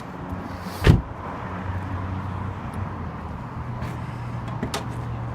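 A single solid thunk rings out as the hood of a 2007 Subaru Impreza WRX STI is released, followed by a lighter clunk later under steady background hum.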